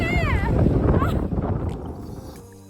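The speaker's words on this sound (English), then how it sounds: "So windy!" Strong wind buffets the microphone on California's remote Lost Coast shoreline, a loud low roaring gust that fades toward the end, with a brief exclaiming voice at the start.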